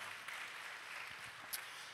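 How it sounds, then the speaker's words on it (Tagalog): Faint, steady applause from a church congregation fills the space as a continuous wash of clapping, distant and even, with no voices over it. "Isang palakpak muli para sa Panginoon."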